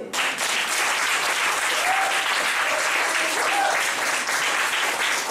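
A church congregation claps and cheers in praise, dense sustained applause with voices mixed in, loud and continuous throughout.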